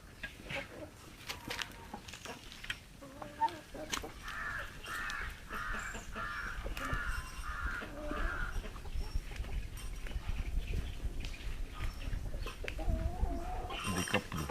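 Backyard hens and chicks cluck and chatter in a small poultry yard, and a rooster-like crowing call repeats midway. The birds sound fairly close over a soft outdoor background, with no one talking.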